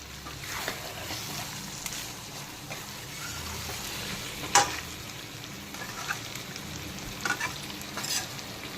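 Fried chicken and potatoes are stirred into spiced masala in a wok while cooking chicken kosha: a soft continuous sizzle with repeated scraping stirs and a few sharper clinks of the spatula, close and fairly quiet, no speech.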